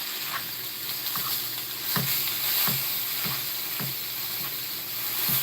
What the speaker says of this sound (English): I think my cheese may be burning